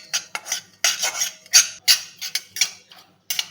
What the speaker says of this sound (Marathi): मंद आचेवर खसखस भाजून घ्यायची आहे.